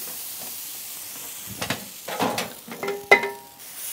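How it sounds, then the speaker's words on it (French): Pink crêpe batter poured onto a hot crêpe maker hisses and sizzles up close, building from near silence into bursts of frying hiss with a sharp clink of the utensil near the end. "Je verse ma pâte, la bonne quantité"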